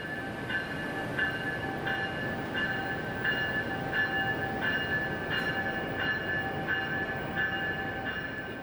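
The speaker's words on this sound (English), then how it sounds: "Amtrak's Winter Park Express is getting ready to depart Denver, ready to hit the slopes at Winter Park and Fraser." Amtrak Winter Park Express train idling at Denver Union Station before departing, a steady rumbling engine drone with a sustained tonal hum and faint periodic clanks, heard continuously with no talking.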